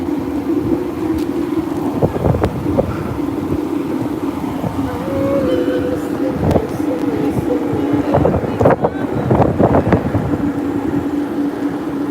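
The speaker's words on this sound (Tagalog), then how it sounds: "Hangin" Strong wind buffets the microphone outdoors near water, a constant rushing roar with gusty bursts and a steady low hum underneath; brief voices come through at moments.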